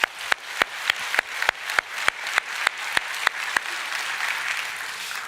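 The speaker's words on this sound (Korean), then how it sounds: "박수로 한번 격려 한번 하겠습니다." A handful of church congregants clap in a slow, even rhythm of sharp individual claps for about four seconds, then the beat dissolves into softer, scattered applause that fades out.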